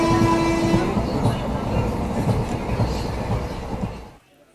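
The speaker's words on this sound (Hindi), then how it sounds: "फिलहाल मैं एक पैसेंजर ट्रेन में ही हूँ" A passenger train rolling through Bihar after leaving Siwan Junction, heard from inside: a steady rumble with regular clickety-clack wheel beats, a brief tonal whine early on, and a voice speaking over it before the sound drops away at the end.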